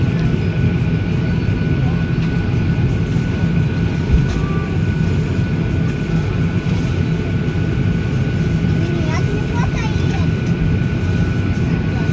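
A Boeing 737-800 airliner pushing back at the gate, heard from inside the cabin as a steady, loud engine and air-system drone with a low rumble that holds evenly throughout.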